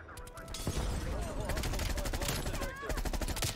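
A Groza rifle firing rapid bursts in the video game Call of Duty Black Ops Cold War, loud and continuous over dense game noise and other effects, with no clear talking.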